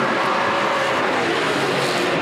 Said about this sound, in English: Listen to these engines roar around the streets of Trois-Rivières.